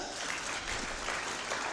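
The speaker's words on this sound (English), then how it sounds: "Please clap for that." Graduates and guests at a graduation ceremony clap together, producing a short, even wash of applause with no voices over it.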